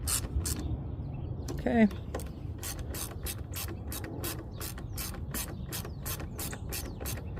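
A ratchet tightens bolts on a Toro lawn mower, its pawl clicking in a quick, even series of close metallic ticks, with a brief creak and a short spoken word early on.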